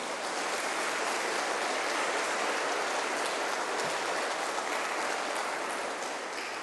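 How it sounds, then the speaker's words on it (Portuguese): A church congregation applauds during a sermon, a thick, continuous wash of many hands clapping at an even level throughout, with no voices breaking through. "Você pode aplaudir o Senhor Jesus agora?"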